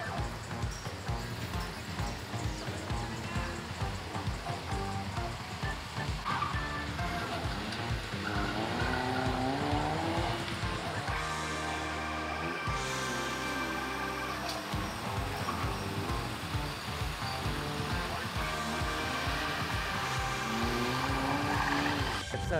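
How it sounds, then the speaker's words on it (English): A Toyota Vios race car drives a technical track, its engine note rising and falling loudly through repeated revs and gear changes, with a short break in the middle and no clear talk. "And here goes Troy Montero, car number 6"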